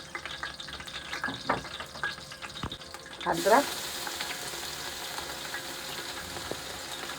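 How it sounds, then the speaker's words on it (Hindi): Spices, onion and ginger fry in a pan for pulao, giving a soft, steady sizzle that flares up briefly partway through as stirring goes on under a voice. "हल्का सा फ्राई करते हैं 1 मिनट इसको"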